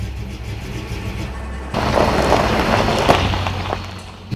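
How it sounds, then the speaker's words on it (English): A red pickup truck engine drives, a low idle rumble that swells abruptly into a louder, busier driving roar with light rattles, fairly close and with no talking. "she noticed a red pickup truck follow her out of the parking lot"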